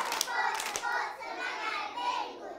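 Young preschool children in a classroom clap together in a quick burst near the start, then soft chanting voices carry on quietly under the room noise.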